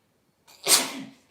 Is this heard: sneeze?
yes